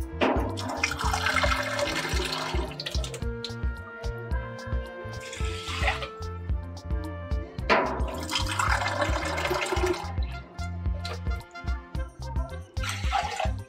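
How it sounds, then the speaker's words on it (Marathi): Water poured onto washed rice in a pressure cooker, a steady splashing, gurgling stream that runs in several bursts, close and fairly loud, with no talking over it. "आता हे 2 पेले, 1 पेले तांदूळ आहेत तरी 2 पेले पाणी घालायचं त्याच्यात."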